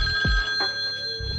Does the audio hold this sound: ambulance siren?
no